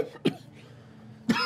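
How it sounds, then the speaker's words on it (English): Two sharp, close coughs about a second apart, with a wet, throaty edge as if spitting up water, separated by a quiet breathy pause. "as he opens his mouth, begins coughing and spitting water up"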